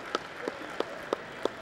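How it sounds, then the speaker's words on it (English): Applause with sharp claps landing at an even, steady beat over a soft, continuous wash of background noise. "give these guys a big round of applause."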